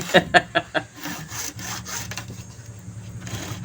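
A hand saw rasps through wood in several quick, uneven strokes, loud at first and then fading into quieter scraping and shuffling.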